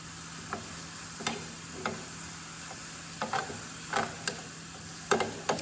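Coriander powder and turmeric are stirred together in a pan, with light scraping taps and clicks scattered irregularly over a steady, faint sizzling hiss.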